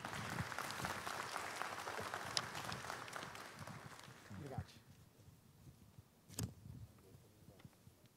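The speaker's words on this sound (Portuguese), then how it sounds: "Vamos receber com um forte aplauso, com a nossa gratidão, o nosso primeiro palestrante dessa tarde" An audience at a municipal event in Canoas, Brazil, claps for several seconds, a dense even applause that fades out about halfway, followed by quiet room tone and a single sharp knock.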